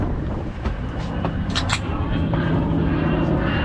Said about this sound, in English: F-22, F-35, and a P-51. Yeah, that's a heritage flight.